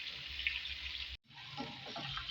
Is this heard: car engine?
no